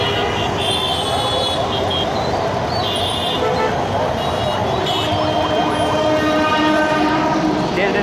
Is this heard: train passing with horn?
yes